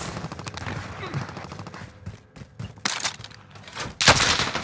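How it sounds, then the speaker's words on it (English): Bursts of rapid gunfire in the Warzone video game on Fortune's Keep crackle at close and middle distance, coming in uneven volleys with a loud burst near the end. "Getting shot already."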